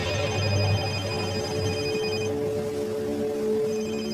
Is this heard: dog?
no